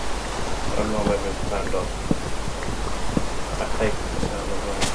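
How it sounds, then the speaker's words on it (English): Steady, dense rain noise in Minecraft fills the background while a person talks briefly over it, with a few faint scattered clicks and thuds. "Oh, this rain is deafening."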